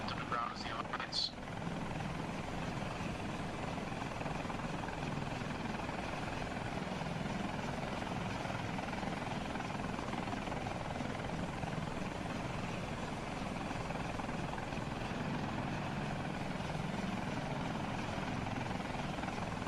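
Military helicopter in the video game Arma Reforger, its rotors thrumming steadily and continuously for the whole stretch, with voices talking over the drone.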